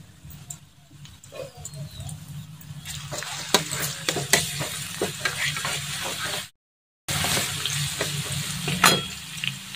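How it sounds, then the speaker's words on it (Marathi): Crushed garlic cloves fry in hot oil with a loud, steady sizzle and crackle, broken by sharp spatters and stirring clicks. The sound cuts out briefly and then resumes at the same intensity. "आता त्याच्यामध्ये आपण लसूण टाकू. लसूण बघा मी ठिचून घेतलेला आहे मस्त आणि छान असं तळून घ्यायचं आहे."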